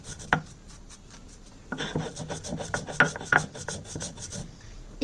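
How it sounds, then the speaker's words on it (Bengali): Dried chillies and salt ground by hand on a grinding stone: a quiet, uneven rasping scrape with repeated strokes and a few sharper knocks over about five seconds, no voices. "আমি এখন প্রথমে শুকনো মরিচটাকে অল্প লবণ দিয়ে বেটে নিব"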